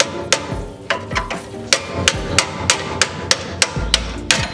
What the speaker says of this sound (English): then we'll slide hammer it the rest of the way